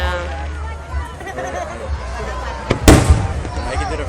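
Fireworks over the Kissimmee lake front burst amid a chattering crowd, with one sharp loud bang near the middle above a steady murmur of voices and background babble.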